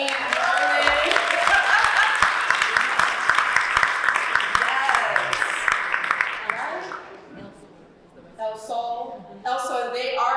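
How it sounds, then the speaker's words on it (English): A panel audience applauds the food and the Richmond restaurant El Sol, a dense sustained clapping wash mixed with voices and cheers, then fading near the end before a speaking voice returns. "I hope you hear us in here applauding you"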